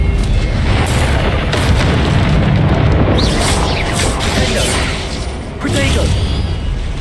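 Expelliarmus spell cast in the video game Hogwarts Legacy: a dense, loud stretch of booming magic blasts and bursts, with a couple of sharp swells over constant low rumble and game effects; speech-like sound mixed in.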